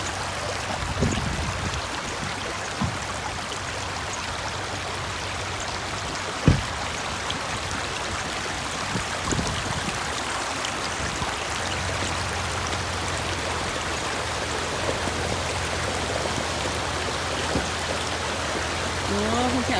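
Steady rain falls near a stream, a dense, continuous wash of water noise with a few louder drops and splashes throughout, heard outdoors with faint voices in the background.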